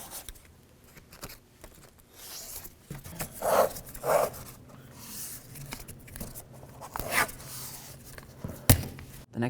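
Tape being pulled off a roll to cover a window on a 1988-2002 GMC Sierra 1500 truck door, heard as several close ripping strips with scattered handling rustle and quiet gaps, no talk.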